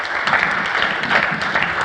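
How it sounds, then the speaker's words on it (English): Steady applause from a conference audience at an agile software event in Austria, a dense wash of many hands clapping at an even, close level for the whole stretch, with no voices over it. "please, a big applause"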